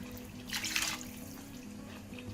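Water is poured into simmering okra soup in a pot, a short splashing pour lasting under a second, then a quieter bubbling simmer over a low steady hum.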